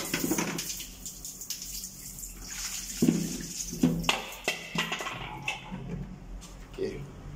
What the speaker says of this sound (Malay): kita kena buangkan air dulu lah.